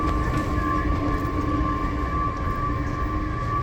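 Subway train at Union Station Metro station, a steady loud rumble with a sustained high tonal whine throughout, no talking.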